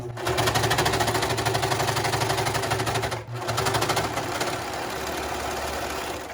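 Sewing machine closing the back seam of velvet and lining for a long women's tuxedo, a loud, close, rapid needle chatter running almost continuously with one brief pause.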